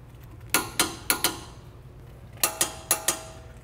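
Ratcheting wrench tightens brake caliper carrier hardware on a front brake job of an Audi TT quattro, a quick pair of sharp metallic clicks, a pause, then two more pairs, close and crisp with no talk.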